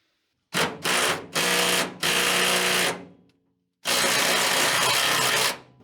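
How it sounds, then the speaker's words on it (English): A power drill whirs in several short bursts removing a threadlocked bolt from a 1984 Dodge Ram, then pauses and runs again in one longer, steady burst, loud and close. "This isn't a real impact, by the way. This is just like a drill."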